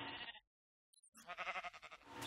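Sheep in a survival video game bleating in two quavering calls, split by a short gap, fairly close, with no talking.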